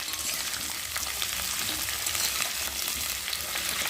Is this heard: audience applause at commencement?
no